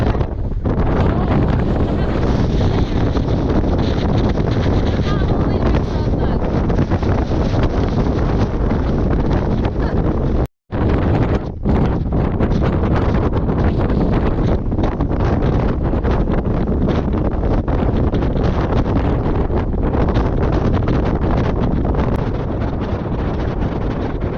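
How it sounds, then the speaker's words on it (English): Loud, constant wind buffeting the microphone atop a volcanic crater in Iceland, a roaring rumble that drops out briefly once before resuming. "It's so windy."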